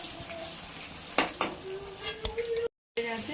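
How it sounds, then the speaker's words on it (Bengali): Egg and potatoes fry in oil seasoned with salt and turmeric, giving a steady close sizzle with a few sharp utensil clinks against the pan and a brief dropout near the end. "এবার তুলে নেবো, নিয়ে আলুগুলো ভেজে নেবো।"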